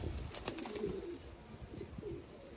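Thai Titan pigeons cooing in a breeding loft, several soft, low coos overlapping at moderate distance, with faint clicks and rustling around them and no talking.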